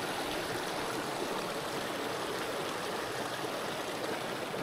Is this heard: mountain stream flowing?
yes